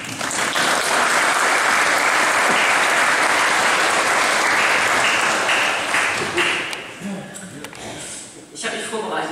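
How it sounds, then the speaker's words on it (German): Dense, loud applause from an audience in St. Nicolai church, Wittmund, at a barrel organ concert, sustained for several seconds before thinning out and fading near the end. "Es darf gerne heute Abend applaudiert werden."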